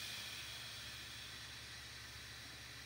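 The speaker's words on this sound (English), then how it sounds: "I'm just steaming that water away and" A steam iron hisses steadily over wet punch needle fabric on an Oxford punch needle whale pillow, a soft, continuous, even rush of steam with no talking.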